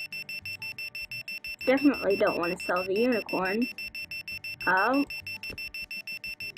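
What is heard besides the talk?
alarm sound in video game Roblox Bloxburg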